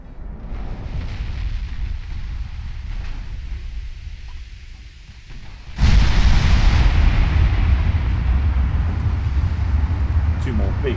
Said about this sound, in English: Absolutely destroyed that ship with that broadside